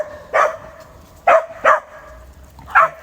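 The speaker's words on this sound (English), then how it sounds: "Very noisy dog suddenly come into the park." A very noisy dog in a park lets out four sharp, loud barks, two close together in the middle, with quiet gaps between them.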